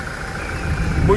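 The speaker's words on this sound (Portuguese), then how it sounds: "funcionando o motor da Hilux incrivelmente vermelha" A red Toyota Hilux engine idles just after a timing chain replacement, giving a short, steady low rumble heard close up.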